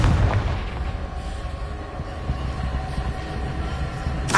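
A Confringo fire-blast spell explodes in Hogwarts Legacy, giving a loud, sustained booming rumble with a sharper burst at the start and another right at the end.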